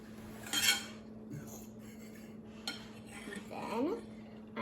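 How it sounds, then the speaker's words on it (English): A spoon stirring sugar and other cinnamon roll dough ingredients in a bowl, giving a few quiet scrapes and scattered clinks against the bowl with pauses between them. "And then I'm going to stir this up."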